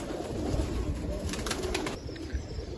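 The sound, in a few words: pigeons cooing on a rooftop loft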